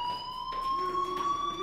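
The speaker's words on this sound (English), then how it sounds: "do you hear that fire alarm?" A fire alarm rings in the Life Is Strange video game, a steady loud electronic tone holding throughout with a second lower tone joining partway, no talk over it.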